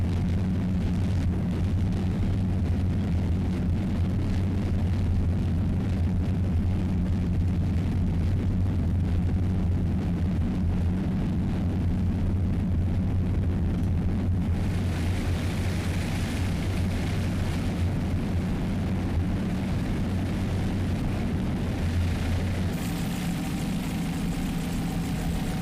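A pair of Ilmor Racing inboard engines on a Super Cat racing powerboat roar steadily at a distance in Key West, a constant low throbbing drone that shifts slightly in tone as they pass.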